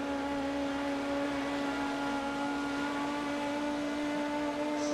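A 4-cylinder sprint car engine drones steadily at high revs on the big half-mile dirt track at Las Vegas in World of Outlaws, a constant, close, buzzing whine holding one pitch throughout with no speech.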